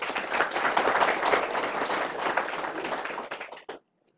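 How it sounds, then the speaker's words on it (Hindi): Dense audience applause fills a lecture hall at an Ayurveda talk in Jamnagar, building quickly, staying loud and steady for over three seconds, then thinning into a few last claps before abrupt silence. "ठोको ताली"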